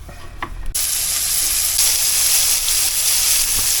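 Moose meat sears in a hot pot, a loud, steady hiss and crackle that bursts on abruptly after a brief quieter moment and then holds at full strength, close and continuous.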